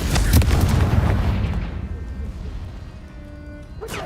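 The Confringo spell in Hogwarts Legacy sets off a loud, booming blast at close range. It opens with a sharp burst, then a heavy rumbling roar slowly fades, and a few faint tonal game sounds linger afterward.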